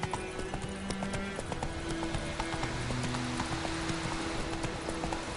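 Hooves of Roach, the horse in The Witcher 3, clip-clop at a steady walking rhythm, crisp and close, with sustained game tones and ambience underneath.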